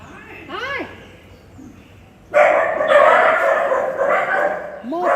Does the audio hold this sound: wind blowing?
no